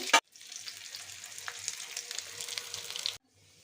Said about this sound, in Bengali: এই যে আমার বেগুন ফ্রাই হয়ে গেছে